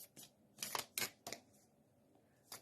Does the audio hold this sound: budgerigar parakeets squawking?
no